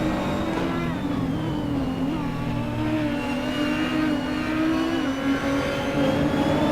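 Race cars lap Brands Hatch in the Assetto Corsa sim racing game, a Nissan and an Audi among them, their engines droning loudly and continuously with shifting revs as a commentator talks over the action.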